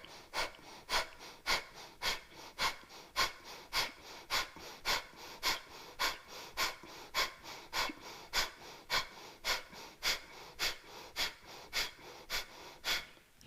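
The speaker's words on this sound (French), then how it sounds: "installez la respiration de feu" Breath of fire yoga breathing, rapid rhythmic forceful exhales through the nose repeating at an even pace of about two per second, close and alone without speech.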